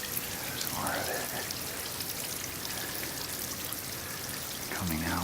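Inside an ice cave, a frozen waterfall keeps running within its ice shell, making a continuous close trickling and rushing wash of water. Faint voice-like sounds rise briefly near the end.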